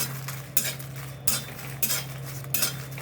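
Whole cumin, coriander, fennel and dried chillies being dry roasted in a pan, with periodic scraping stirs and light rattling over a steady low hum, no talking.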